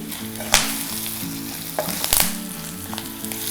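Turmeric powder frying in a hot oil tempering, a steady close sizzle with a couple of sharp spatula scrapes against the pan, no voices.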